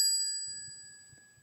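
A small hand bell rings once with a bright metallic strike and a sustained ringing tone that slowly fades, ending as faint low background noise takes over.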